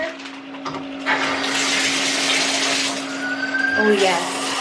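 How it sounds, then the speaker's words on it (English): A home shower is turned on: after a quiet second, a steady hiss of running water starts and continues over a constant low hum, with a few brief squeaks near the end. "about to run my shower."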